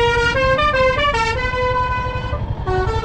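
A musical, tune-playing vehicle horn on a mountain road in Kinnaur Valley sounds loud and close, running through a melodic sequence of held notes with short breaks and no talking.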